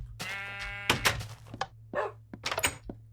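Sheep bleating in the Minecraft video game: one drawn-out bleat is followed by a run of short clicks and thumps over a steady low hum.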